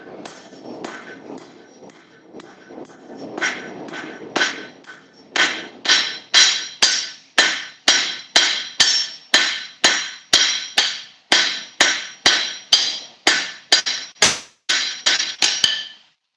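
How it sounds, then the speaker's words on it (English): A power hammer forges metal in rapid, sharp, ringing strikes that start softer and irregular, then settle into a loud, fast, steady series of heavy blows. "hit on the power hammer for every one."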